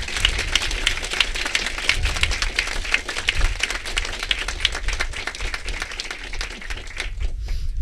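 Applause at a University of Cambridge veterinary admission ceremony, many hands clapping in a dense, sustained patter that holds steady at moderate loudness for several seconds before thinning out at the end.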